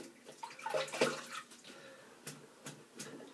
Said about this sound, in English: Now I should just rinse my brush out